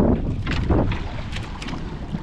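A large wooden outrigger motor boat sits on choppy sea water in big waves, with steady wind buffeting the microphone and sloshing, rumbling noise throughout and no talk.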